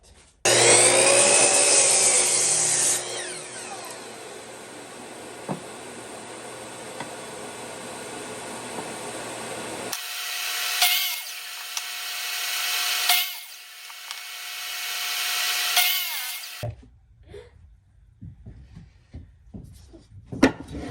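A hand saw makes the first cut through a piece of scrap wood, steady rasping strokes that change tone partway through, with a few rubbing scrapes and quieter handling at the end; no talking.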